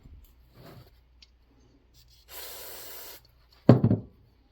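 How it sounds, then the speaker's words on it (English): A few faint spritzes of cleaner spray on a generator part, then a sustained hissing blast of compressed air for about a second, followed by a short loud burst. "so spray it out and blow it out with some air"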